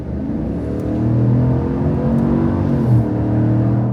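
A 2024 GMC Sierra 1500 Denali Ultimate pickup with a 6.2-liter V8 accelerates on the road, its engine rising in a steady, smooth drone heard from inside the cab.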